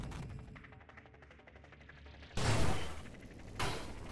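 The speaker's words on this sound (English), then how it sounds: "It's a serious shotgun" Shotgun weapon in the space shooter Nova Drift fires in two loud, broad blasts, each a sharp burst that trails off, following a stretch of rapid rattling gunfire.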